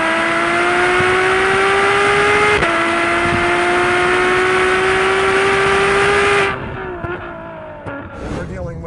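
A Ferrari F12 Berlinetta V12 of 731 horsepower accelerates hard through the gears on street tires, a loud, steady rising engine note with brief shift breaks that drops away near the end, while occupants talk over it.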